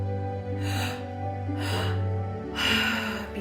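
Breathwork exercise following a three-part pattern of belly breath, heart breath and exhale, with three forceful, audible breathing bursts spaced about a second apart over a steady low hum.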